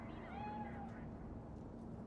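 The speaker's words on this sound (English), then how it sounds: "Nope, just a cat." Cat meowing in the video game Cyberpunk 2077, a single drawn-out rising-falling meow, quiet and close, over a low ambient game hum.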